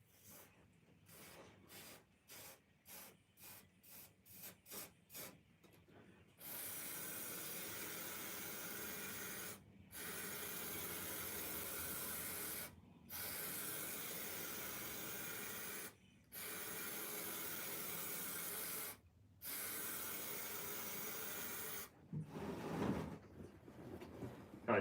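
Spray glue hissing from a can while a pool table is re-clothed: a run of short rapid bursts, then several long steady sprays of several seconds each separated by brief pauses, fairly close and loud.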